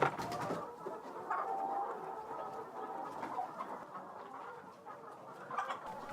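Chickens cluck steadily around a farm feeding and watering area, several birds close by with overlapping calls and a busy, continuous murmur of soft clucks.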